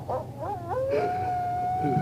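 A creature growling on a Halloween sound effects tape, heard as a drawn-out, wavering howl that bends upward and then holds a long, steady pitch over a low rumbling bed, loud and close.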